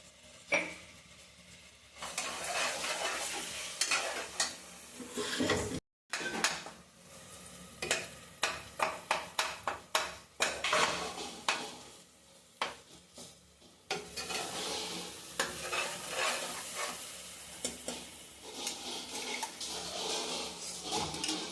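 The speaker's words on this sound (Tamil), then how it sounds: "இப்போ அரிஞ்சு வச்ச தக்காளியும் அது கூட நம்ம ஆட் பண்ணி நல்லா கிளறி விட்டுக்கிறோம்." Chopped tomatoes stirred in a pot for mutton biryani: a soft sizzle with a run of distinct scraping and clacking strokes of a spoon against metal, heard up close and alone.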